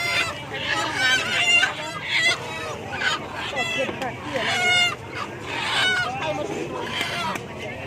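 Chickens clucking and a rooster crowing on a small farm, several bird calls rising and falling close by, with someone talking over them throughout.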